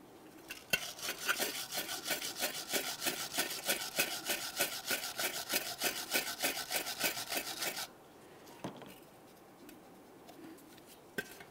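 A wire brush scrubs a rear brake caliper bracket on a 2006-2012 Ford Fusion, a steady run of close, rapid rasping strokes for about eight seconds before stopping, followed by a few faint knocks.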